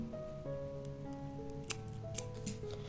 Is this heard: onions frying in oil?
no